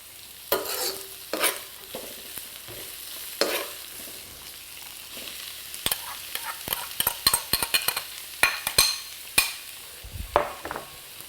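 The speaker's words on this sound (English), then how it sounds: "And then we're going to add this jackfruit meat." Jackfruit meat tipped into a pan on high heat, answered by bursts of sizzling and frying with stirring scrapes, loud and close, the crackle growing busier toward the end.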